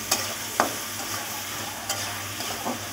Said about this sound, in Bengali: এখন এই যে মাছটাকে একটু কষিয়ে নিই